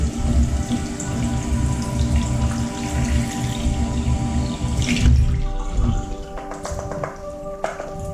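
Cold water runs steadily from a tap and pours into a jar of pickling cucumbers, a continuous splashing stream that breaks up into scattered drips near the end.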